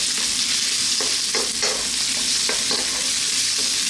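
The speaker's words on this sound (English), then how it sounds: "I'm going to go in now with our onion, our celery, those cashew nuts" Onion, celery and raw cashew nuts fry in a hot pan with garlic and ginger for a vegetable stir fry, giving a loud, constant close sizzle punctuated by spatula scrapes and stirring taps.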